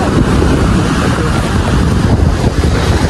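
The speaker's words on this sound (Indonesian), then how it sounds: "Ombak yang mengerikan ini cuy." Strong surf rolling onto a beach at Sanghar, Lampung, a steady loud roar of waves mixed with heavy wind buffeting the microphone, continuous throughout with no clear breaks.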